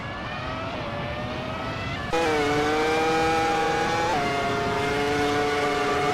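Race cars in a video game race whine with engine tones at high revs, loud and continuous, the pitch shifting as they accelerate and change gear, with no talking.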